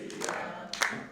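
An audience at a Kavi Sammelan musical program claps along to a Holi song, producing a couple of quick bursts of hand claps over faint singing.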